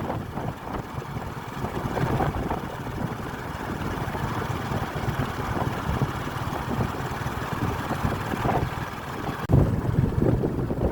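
Steady wind blows hard across the microphone by the Suy reservoir in Champhone, Savannakhet, Laos, a continuous rushing roar with low buffeting rumble throughout, no voices.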